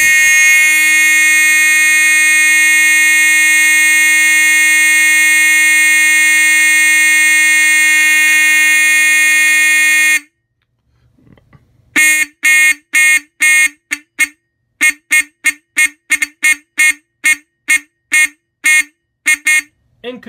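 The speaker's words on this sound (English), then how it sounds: "Now let's test it with the 4051 horn connected to the strobe. This is going to be pretty loud." A Simplex 4051 fire alarm horn wired to an LED strobe blares a loud continuous tone for about ten seconds, then after a pause sounds in rapid repeated pulses that speed up into a fast stuttering pattern.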